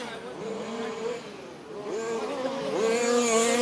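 Race cars on a track roar past, their engine notes rising and falling as they pass, with one pitch sweeping up toward the end. The sound is moderately loud and carries no talk.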